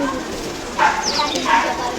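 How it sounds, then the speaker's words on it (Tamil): A dog at a neighbour's house barks twice, short and fairly distant over a faint background hiss. "முனி வீட்டில் கத்துற நாய் இங்கே கேட்குது"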